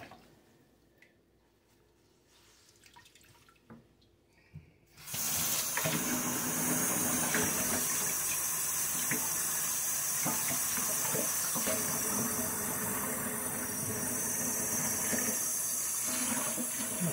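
A faucet opens after a few quiet handling sounds and runs loud and steady into a sink while a tie-dyed T-shirt is rinsed under it, a continuous rushing splash.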